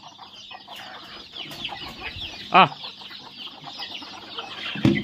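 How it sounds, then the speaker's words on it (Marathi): Desi chickens in a farm shed cluck busily while pecking at coarsely ground maize feed. A dense, steady chatter runs throughout, with a person's short calling voice rising loudly near the middle and again at the end. "ते कशा आवडीने कोंबड्या खात असतात"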